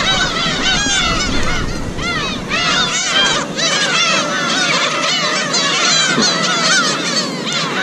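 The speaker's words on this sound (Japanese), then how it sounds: "至る所にいるわ、鳥の赤ちゃん。" Baby birds on a bird-covered island, a loud dense chorus of overlapping honking, squawking calls from many chicks and adult birds close by, continuous with no talk.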